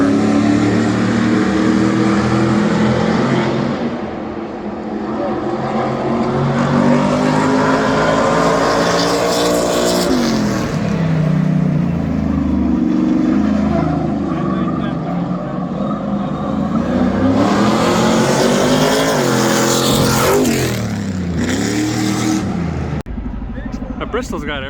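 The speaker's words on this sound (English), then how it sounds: "Trucks can run 140 to 150 miles an hour." Super Stadium Trucks roar around Bristol Motor Speedway, loud sustained engine noise rising and falling as they pass, with revving surges and a voice talking over the din.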